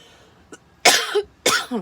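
Two loud, close coughs in quick succession, each a sharp burst followed by a short rasping tail, with a faint small sound before them.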